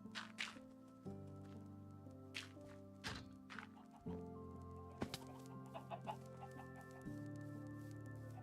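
Chickens in the Minecraft game cluck in short, separate bursts, one every second or so, heard close over a low steady background tone.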